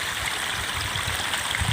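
Irrigation water runs along a channel toward a rice paddy on a farm, a steady rushing, gurgling flow heard close and fairly loud, with no voices.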